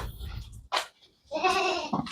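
Local Osmanabadi goats bleat on a farm in a few short, loud calls with pauses between them, the longest near the end, and no talk over them.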